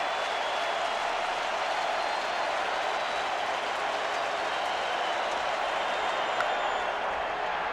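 Stadium crowd at a 2002 ALCS Game 1 baseball game, Angels at Twins, cheering behind pitcher Mays, a steady dense roar of voices and clapping holding level throughout with no break.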